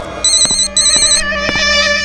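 A telephone rings loudly and close by after a call is placed, sounding as a repeating electronic ringtone in short bursts with brief gaps.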